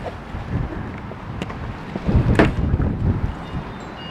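Gusty wind buffets a microphone outdoors during a repair job on a Mitsubishi 3000GT/GTO side door lock, a steady low rumble swelling into stronger gusts midway with no talking.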